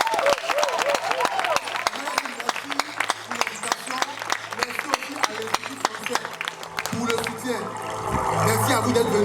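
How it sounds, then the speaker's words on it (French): An audience at a slam poetry show applauds with sharp, scattered claps over several seconds, close and lively, before a voice speaks over a background hum. "Est-ce qu'on peut applaudir pour eux?"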